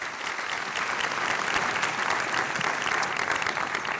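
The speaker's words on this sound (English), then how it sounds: "How about another round of applause to our Faculty Diversity Enhancement awardees." Sustained audience applause at the 2022 Mānoa awards ceremony, honoring faculty diversity enhancement awardees: a dense, steady wash of clapping from a large crowd that holds at an even level throughout.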